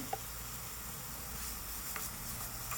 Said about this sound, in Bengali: এখন আমি ভেজে নিচ্ছি এটাকে